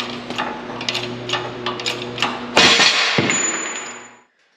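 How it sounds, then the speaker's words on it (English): Metal clanks and ringing taps in a workshop as old U-joints are pressed out of Dana 60 front axle shafts for a 1940 Chevy truck, a series of sharp strikes over a steady hum, then a louder burst and a high whine that cuts off. "I got to press the old ones out before I get new ones"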